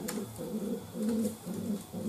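A pigeon in a racing-pigeon loft coos close by in soft, low, repeated throaty phrases that rise and fall steadily, with no voices.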